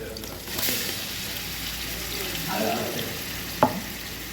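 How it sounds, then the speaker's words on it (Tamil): Onions with ginger-garlic paste frying for mutton pulao, a steady soft sizzle with occasional scraping stirs and one sharp clink near the end; no speech. "நல்லா கிண்டி விட்ருக்காங்க பச்சை மணம் போட்டு"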